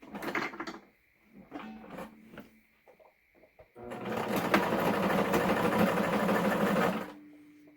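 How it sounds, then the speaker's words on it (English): A sewing machine stitches two layers of face mask fabric together, right side to right side; short start-stop bursts come first, then a steady, fairly loud run of about three seconds before it stops. "the next thing we are going to do is sew both of these together, right side to right side"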